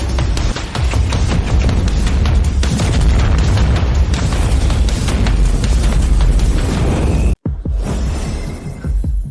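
A huge main cannon blast from an animated fantasy battle, a dense roaring explosion with crackling, shattering debris that rumbles loudly for seconds, briefly cuts out, then trails off into a fading roar.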